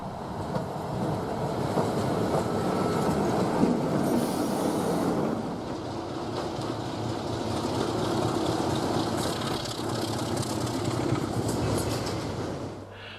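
A model BR Class 33 locomotive train rumbles steadily along a model railway track with continuous rolling noise and faint wheel squeal, loud and close throughout.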